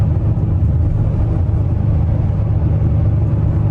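A straight-piped Audi RS7 tuned to about 800 hp drones with a deep, steady exhaust rumble from inside the car on icy roads, low and constant without sharp revs.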